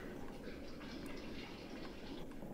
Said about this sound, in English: Why do I hear running water?